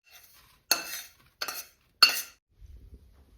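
Three sharp metallic scrapes of a utensil against a pan of roasted semolina, evenly spaced, followed by a faint low rumble in an otherwise quiet space.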